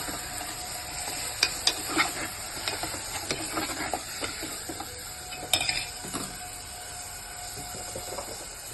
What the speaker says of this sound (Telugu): వేసి బాగా ఫ్రై చేయండి.